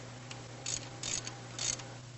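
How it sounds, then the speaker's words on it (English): A box spanner tightens the ring nut on a large marine main engine turbocharger, giving three short metallic ratcheting clicks over a steady low machinery hum. "Tighten the ring nut harder with the box spanner from 0 to the specified scale."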